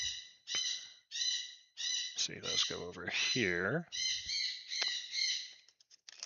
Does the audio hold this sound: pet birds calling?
yes